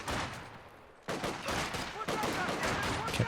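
Machine gun fire in the World War II strategy game Company of Heroes 2, with dense, rattling bursts of automatic gunfire that drop out briefly and resume, heard under a commentator's voice.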